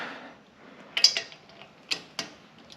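A brake rotor bolt on a Harley Davidson Sport Glide being torqued with a wrench, giving a few sharp, close metallic clicks spaced apart over a quiet background.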